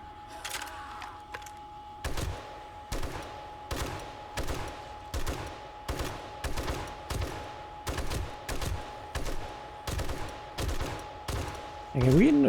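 Repeated gunshots from a long-range firearm in the survival game 7 Days to Die, fired at a steady rhythm of about two shots per second, loud sharp cracks over a low game hum with a faint voice early on.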